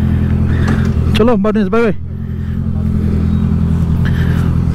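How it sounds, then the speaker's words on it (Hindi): A Honda CBR650F inline-four motorcycle revs sharply through a quick burst of rising and falling engine notes, then settles into a steady idle rumble while a voice speaks briefly nearby. "बाइक स्टार्ट कर लिए हमने"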